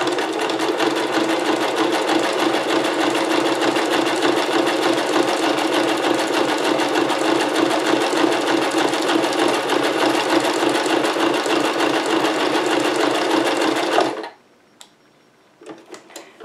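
A sewing machine stitches a double-sided desktop planner flap in one steady, loud, continuous run of rapid mechanical whirring for about fourteen seconds, then stops abruptly, leaving near silence with a few faint handling clicks.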